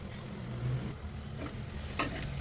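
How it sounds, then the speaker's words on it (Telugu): Paneer masala curry with chili powder and turmeric frying in a pan, a steady low sizzle with faint stirring scrapes, close and continuous with no talking. "పచ్చివాసన పోయే వరకు వేపుకోవాలి బాగా"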